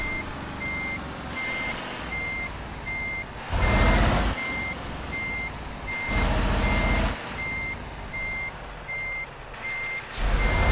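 In Euro Truck Simulator 2 on the Iberia map, a truck backs up with evenly spaced reversing beeps over a low engine rumble, broken by several loud bursts of hissing air and engine noise.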